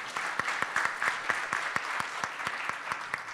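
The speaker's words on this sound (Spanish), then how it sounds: "Un aplauso, por favor." Audience at a public-finance conference applauding a newly introduced panelist, steady dense clapping with sharper individual claps standing out, moderately distant and sustained throughout without speech.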